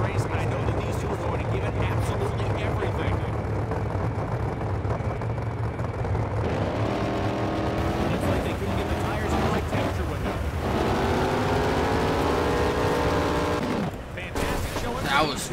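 An NHRA drag racing car in a video game roars steadily as it accelerates, its loud engine drone rising in pitch midway and continuing under a constant wash of noise before easing slightly at the end.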